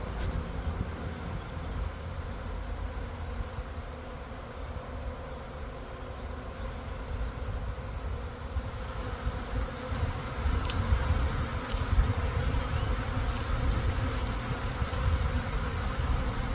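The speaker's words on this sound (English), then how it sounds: "The bees are just pouring inside the box." A dense, continuous buzz of many honeybees swarming into a hive box hums throughout, steady and close, swelling slightly louder toward the end.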